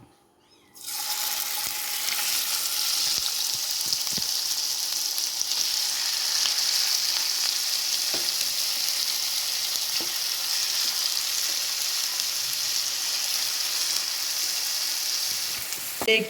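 Marinated chicken drops into hot oil with sautéed onions for a chicken curry. A loud, dense sizzle bursts on suddenly and holds steady throughout, broken by occasional small clicks.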